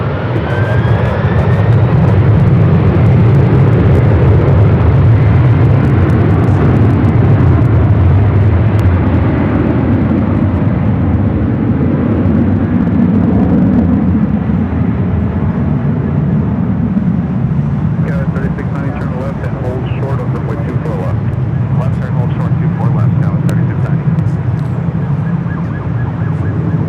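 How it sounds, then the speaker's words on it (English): A Delta Boeing 767-400ER takes off at LAX with a loud, powerful jet roar that swells and then slowly recedes. Voices talk over it throughout, and a faint siren-like tone rises early on. "Delta Airlines 446 taking off to Atlanta on the 767-400 ER"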